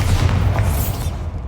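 The Bombarda spell explodes in Hogwarts Legacy with a single deep, loud boom whose rumble fills the short moment before fading out.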